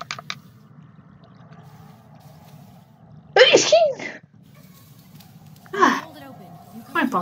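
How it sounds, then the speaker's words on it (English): A person sneezes while playing Silent Hill: Homecoming, with two close, abrupt sneezes a few seconds apart and a shorter burst just after, over a faint low background hum. "I feel like I'm about to sneeze any moment."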